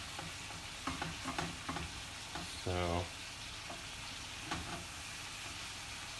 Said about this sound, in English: I never really thought about pan frying fish.